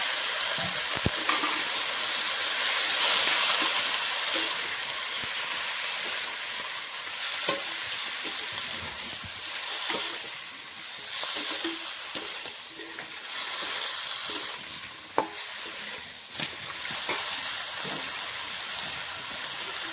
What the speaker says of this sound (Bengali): পালং শাকের ডাঁটা শাকের সঙ্গে কিছুক্ষণ কষিয়ে নেবো।